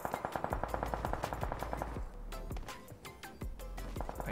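Rapid bursts of automatic gunfire in the mobile battle royale game PUBG Mobile, a fast rhythmic volley at first, then scattered single shots and short bursts, loud and close with no talk.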